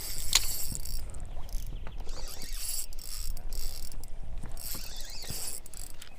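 A spinning fishing reel's drag ratchets in a steady, continuous clicking as a zander is reeled in on a jig, loud and close over outdoor background noise.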